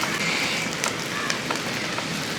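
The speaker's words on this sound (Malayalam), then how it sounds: "അഞ്ചെട്ട് പത്ത് വെളുത്തുള്ളി ചെറുതായിട്ട് മുറിച്ച് വെച്ചിരിക്കുന്നതാണ് അതുകൂടെ അങ്ങോട്ട് ഇട്ട് കൊടുക്കും അതുകൊണ്ട് ഒന്ന് ഇളക്കി കൊടുക്കുക" Chopped garlic sizzles steadily in a hot pan while being stirred for a green plantain stir-fry, a continuous close crackle with faint scraping and no talk.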